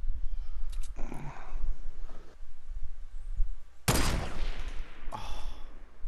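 Video game gunfire arrives as several separate bursts: a rattle of shots, then a sharp, loud volley partway through, followed by another short burst, with quieter gaps between.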